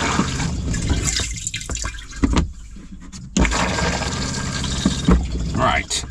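Water is pumped through RV fresh water plumbing with a loud, steady rushing flow and gurgling splashes into a fixture. There are occasional knocks and clunks, and someone talks briefly over it.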